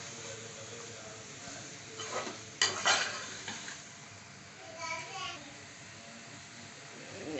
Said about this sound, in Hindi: अब इसके अंदर थोड़ा सा लेमन जूस डाल देंगे और इसको अच्छे से मिक्स करेंगे